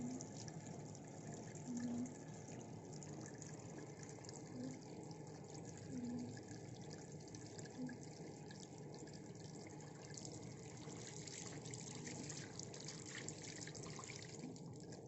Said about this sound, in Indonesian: Kita kasih sabun, dan kita melakukan cuci tangan.